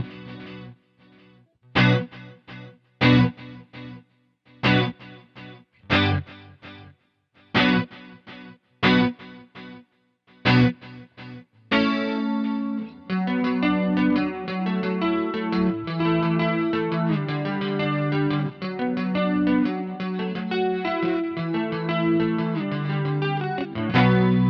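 An electric guitar through a Boss GT-100 with delays and a pitch shifter always on: sharp repeated chord stabs with echoing tails, then a denser sustained riff washed in delay.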